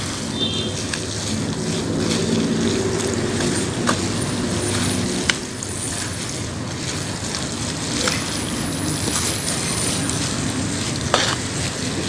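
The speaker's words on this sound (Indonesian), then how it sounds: "Kita masukin air ini sambil kita aduk-aduk biar airnya merata." Water being stirred into a mixture in a basin, with steady wet swishing and scraping for several seconds and a few small clicks of the utensil against the bowl.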